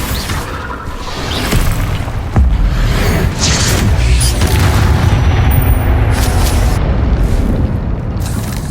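Spell blasts burst repeatedly in the video game Hogwarts Legacy, with loud booming explosions and whooshes rolling one after another.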